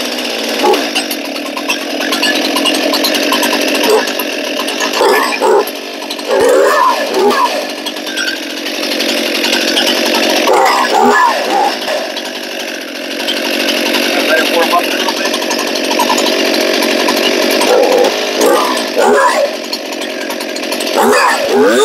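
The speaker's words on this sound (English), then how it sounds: "You gotta give it a few pulls until you hear it start." Stihl MS261 chainsaw, a 50cc saw, starts and runs loud and steady, its engine revving up and down for over twenty seconds with no other sound taking over.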